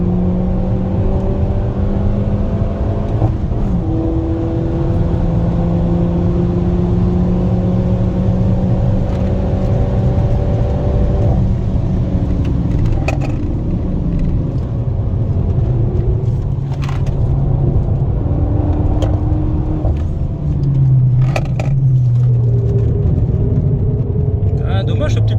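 Peugeot 208 GTI car on a warm-up lap of a racing circuit, its engine droning steadily with rising and falling revs and gear changes throughout, heard from inside the cabin while people talk over it.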